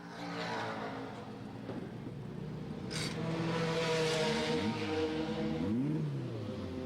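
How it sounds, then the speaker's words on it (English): A 1991 Nissan GTO race car engine revs in the pit lane while the car sits up on jacks with an oil smoke problem, a loud sustained roar with rising and falling throttle blips toward the end. "Crew Chief Lee White with his finger on the throttle, revving the engine to try to see where that oil smoke is coming from."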